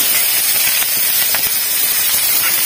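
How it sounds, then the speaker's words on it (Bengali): Chopped onion hits hot oil left from frying fish, with whole cumin seeds already in the pan, giving a loud, steady, close hiss and sizzle throughout. "এখন পেঁয়াজ কুচি দিয়ে দেবো"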